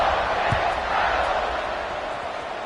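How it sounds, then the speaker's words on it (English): Crowd at an NCAA college football stadium buzzing after a score, a broad, steady roar of many voices that fades slightly toward the end, with a voice speaking over it. "this crowd is buzzing after that last score"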